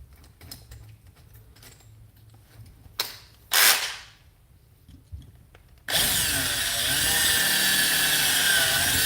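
A power drill bores a hole near the pickup of a cheap guitar, short bursts and a loud whining spin near the middle, then a long steady roaring drill run to the end, close and loud.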